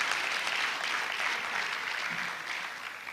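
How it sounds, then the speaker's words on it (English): Steady, dense applause from a crowd of graduates at a medical college induction ceremony, a continuous wash of clapping at even volume throughout, fading slightly toward the end, with no talk over it. "these are the graduates applauding for themselves"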